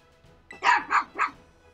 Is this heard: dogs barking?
yes